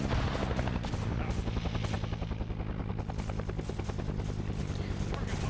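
Helicopters fly over a Vietnam-era military operation in a multiplayer game, with rotor chop thudding in a fast steady rhythm and bursts of gunfire crackling through the noise, loud and continuous.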